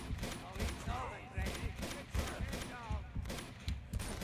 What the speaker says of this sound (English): Just aim the gun and fire.